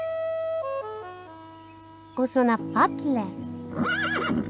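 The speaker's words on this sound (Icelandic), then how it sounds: "Þú ert nú góður hestur." A horse whinnies in several high, wavering bursts after a stretch of gentle sustained musical tones, with a voice speaking nearby.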